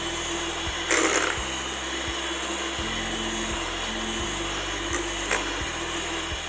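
Electric beater whipping a strawberry ice cream mixture, a steady close motor whine with low rhythmic pulses as the beaters churn, plus a couple of brief scraping bursts against the bowl.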